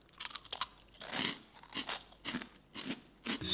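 Crunchy Russisch Brot letter biscuits bitten and chewed up close, a series of sharp brittle crunches in irregular bursts, loud and dry with no talking.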